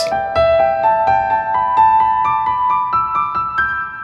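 Piano notes climb quickly in short repeating groups of three, a rising pentatonic run played evenly and clearly, with no talking.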